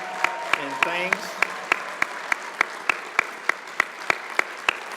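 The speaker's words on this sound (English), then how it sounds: "give her a big round of applause and thanks" Applause from a meeting audience at an announcement of a merger between the Urban League and Grace Hill, with evenly spaced sharp claps standing out over a steady clapping wash and a voice speaking briefly near the start.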